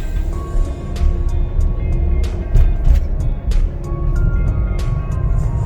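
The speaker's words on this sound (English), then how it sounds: "You can hear all the shifts, nice and smooth." A Ford Explorer from the 2020–2024 range driving after a spark plug and air filter replacement. Its engine and transmission give a continuous low drone, with repeated brief clicks and ticks over the rumble and no talking.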